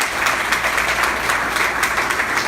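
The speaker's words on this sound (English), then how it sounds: "Let's give them a round of applause." A seated audience gives a steady round of applause for panel speakers at a Princeton entrepreneurship talk, a loud, even sheet of many hands clapping at once, with no one speaking over it.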